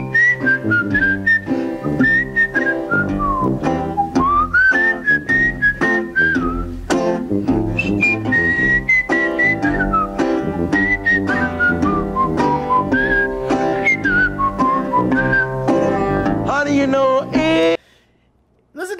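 A melodic whistled solo carries the lead line in a song performed live in 1973, gliding and phrasing steadily over a full band for about seventeen seconds before stopping abruptly.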